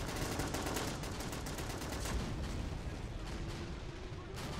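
Dense, continuous gunfire and distant explosions fill a battle in the Men of War Assault Squad 2 coastal fort siege, with rapid overlapping shots throughout and no talk.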